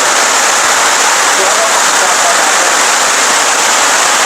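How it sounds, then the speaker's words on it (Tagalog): Heavy rain pours down in a dense, unbroken hiss, loud and close throughout. "Malakas yung ulan."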